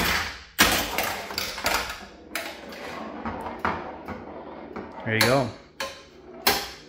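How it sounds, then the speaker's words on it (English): A Stern Iron Maiden pinball machine kicks a ball from the trough into the shooter lane and auto-plunges it, giving sharp mechanical thumps and clacks, rolling rattles and a brief electronic tone, with a short spoken remark. "It'll put a ball into the shooter lane, and it'll auto plunge."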